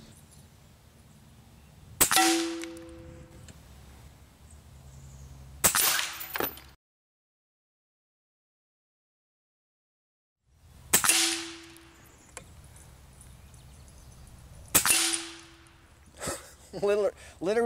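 An FX BOSS .30 caliber air rifle fires 50.15 grain JSB pellets in sharp, loud cracks, each followed by a short ringing tone. There are four shots spread across the stretch, with a silent gap in the middle and a voice near the end.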